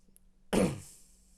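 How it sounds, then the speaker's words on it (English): A single short cough bursts out close and fairly loud after a quiet moment, then fades into a faint hiss. "especially when I'm coughing my guts up"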